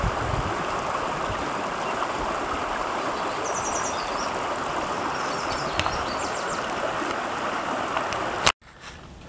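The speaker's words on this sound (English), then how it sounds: "Right alongside the river here." The Escalante River flows steadily in a desert canyon, a constant close rushing and gurgling of water with a few faint bird chirps, cutting off abruptly at the end.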